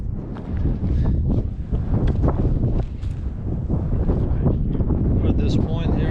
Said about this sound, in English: It's real windy, probably can't even hear.